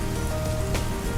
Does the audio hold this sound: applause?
no